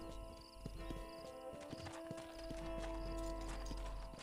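Horse hooves clip-clop in the Red Dead Redemption video game, a steady rhythmic trot running through the whole stretch at moderate level over a low game ambience and faint musical tones.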